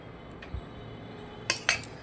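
Rice and fried vegetables are served onto plates for a home lunch: a low thump, then two bright clinks of cutlery against dishes near the end, otherwise quiet.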